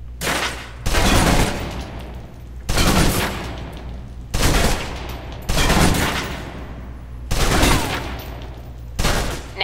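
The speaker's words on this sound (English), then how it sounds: "Now, let's move on to the submachine gun. Now let's empty the clip." A submachine gun is emptied in the video game Alpha Protocol, firing five loud, rapid bursts of automatic fire separated by short pauses with a lingering tail after each, and no talking.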